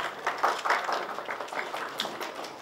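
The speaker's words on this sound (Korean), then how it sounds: "네, 박수로 맞이해 주시기 바랍니다" Audience applause at a press conference held by Korean music industry groups, a moderate patter of clapping from a modest room crowd, uneven and thinning, fairly quiet with no voices over it.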